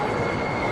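A dense, steady rumble with a high whine from the Fairly Odd Airways train ride at an indoor Nickelodeon theme park, continuous and fairly loud with no pauses.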